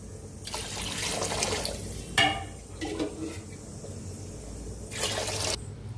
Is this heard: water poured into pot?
yes